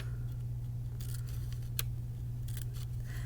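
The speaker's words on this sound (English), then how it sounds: "you're going to go all the way from one end to the other, making those little teeny tiny snips" Scissors make tiny snips into paper, a few quick crisp cuts in brief bursts over a steady low electrical hum.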